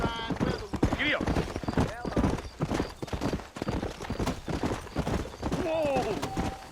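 Horse hooves galloping in the video game Red Dead Redemption, a rapid rhythmic clip-clop running throughout under frequent talking and a short whinny.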